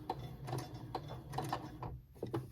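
A sewing machine runs close by with a soft mechanical whir and clicking needle action as it sews a few stitches forward on fabric being shirred with elastic thread.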